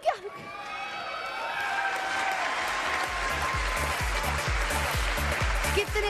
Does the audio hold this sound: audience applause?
yes